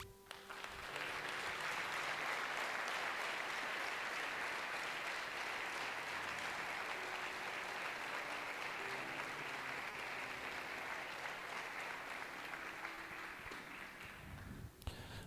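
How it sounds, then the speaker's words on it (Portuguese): Church congregation applauding during a Portuguese-language sermon, steady sustained clapping from many hands that fills the room for about fourteen seconds before stopping abruptly. "Se você quer, aplauda o Senhor."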